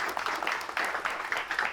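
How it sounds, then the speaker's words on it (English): A studio audience applauds a talk show guest at the close of an episode, a steady wash of clapping that carries through the whole moment at moderate volume with no talk over it. "Let's give another round of applause for Matthew Sen, everybody."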